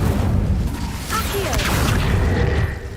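A fire spell cast in Hogwarts Legacy: a steady, dense whooshing burst with booming crackle runs through the whole moment, loud and close, with faint voice-like sounds beneath.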